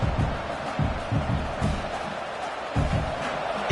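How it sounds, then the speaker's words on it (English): A large video game stadium crowd at a college football game roars in a continuous wash of noise, with thumping swells and distant cheering rising and falling throughout. "this crowd is fired up. Listen to this noise here."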